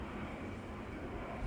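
A jet aircraft passes low overhead, and its engine roar makes a steady, broad rumble that fills the whole clip, with no talk.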